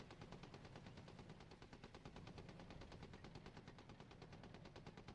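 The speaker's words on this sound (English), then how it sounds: "I hear a machine gun." Rapid machine gun fire rattles in the PC tank game Gunner, HEAT, PC, a continuous fast string of shots at an even pace, very faint and distant with no talk.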